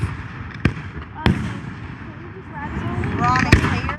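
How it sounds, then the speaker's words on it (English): Fourth of July fireworks go off in a few sharp, distant bangs spaced through a few seconds, with whistling rising streaks near the end and people chatting over a continuous background murmur. "The fireworks aren't over yet."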